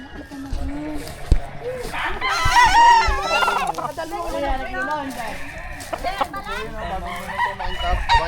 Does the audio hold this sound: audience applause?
no